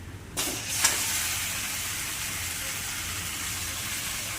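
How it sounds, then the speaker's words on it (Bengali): Fish frying in hot oil in a pan gives a steady, close hiss of sizzling that holds evenly throughout after a brief louder burst near the start, with no talking. "এই দেখো লাল লাল করে ভাজা হচ্ছে"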